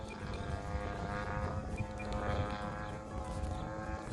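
A Seagull Models Vans RV-8 RC model airplane flying tail heavy, its propeller engine droning steadily with a rough, buzzing tone that swells slightly as it passes, continuous and fairly close.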